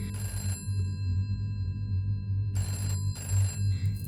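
A telephone rings in two bursts with a pause between them, a steady electronic bell tone over a low background hum, fairly close and with no one talking.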